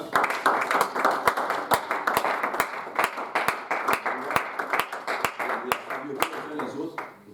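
A church congregation clapping together in a steady, even rhythm, sharp claps repeating about three times a second throughout, with voices singing or speaking underneath.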